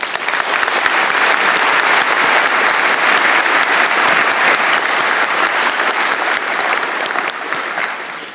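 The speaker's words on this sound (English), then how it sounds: "A round of applause, please." At a university convocation ceremony, an audience gives sustained, loud applause, a thick wash of many hands clapping evenly that carries through to the end with only a slight fade.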